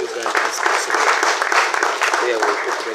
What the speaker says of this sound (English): Let's give another round of applause for our principal.